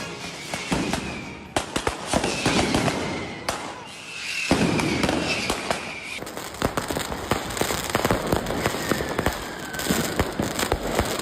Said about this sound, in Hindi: सड़कों पर आतिशबाजी की जा रही है